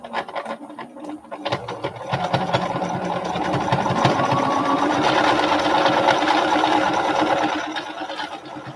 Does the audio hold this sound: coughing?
no